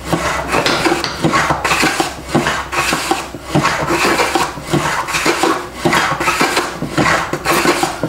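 A Stanley 41 hand plane cuts wood in repeated rhythmic strokes, each pass giving a close, crisp rasping hiss followed by a short pause, with no voices.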